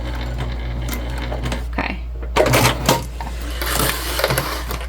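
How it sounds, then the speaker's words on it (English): A sewing machine runs a back stitch on a clutch bag in short close mechanical bursts with clicks and a rattling whir, over a steady low hum. "Do a nice back stitch here."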